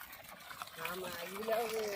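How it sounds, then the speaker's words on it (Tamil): Water pours from the outlet of a 3hp Versil solar pump in a steady, hissing gush that keeps going throughout, with a voice talking over the flow. "தண்ணி ஓடின்னு தான் இருக்குது"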